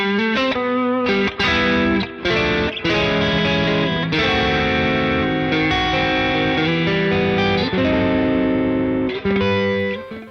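Squier Classic Vibe Stratocaster electric guitar on the neck pickup, strummed chords and picked notes ringing out loud and clear with effects and slight distortion, played alone for about ten seconds.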